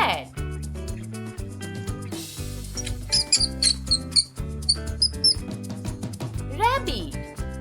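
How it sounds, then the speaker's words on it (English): A rat gives several short, high squeaks in quick bursts, heard over steady background music. "rat"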